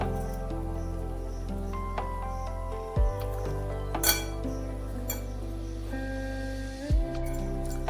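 Kachori filling for chicken kachori being stirred in a bowl, soft clinks and scraping of a spoon against the dish at moderate level, with a few sharper taps, over a sustained steady tone in the background.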